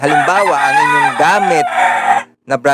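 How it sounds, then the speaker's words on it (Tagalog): A rooster crows loudly and close by in a long, rising and falling cry, with someone speaking over it, then a couple of short clucks after a brief gap. "ay pasensya na sa manok ha"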